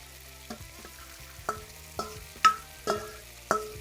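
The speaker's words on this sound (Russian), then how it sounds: "отправляем нашу картошечку, наше мясо к нашей картошечке" Fried potatoes and meat in a pan, a quiet bed of sizzle broken by about six distinct scraping stirs spaced roughly half a second to a second apart, close by and without speech.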